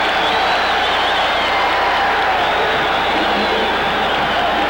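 Basketball arena crowd roaring and cheering at a 1988 Illinois vs Missouri college game, a loud, dense, sustained wash of voices and applause filling the whole stretch without letup.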